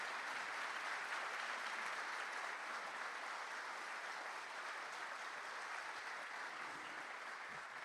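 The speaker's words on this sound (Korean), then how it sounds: "다시 한번 큰 박수를 부탁드립니다." A large crowd applauds at a national police day ceremony, a steady, even roar of many hands clapping that stays constant from start to finish, somewhat distant and with no talk over it.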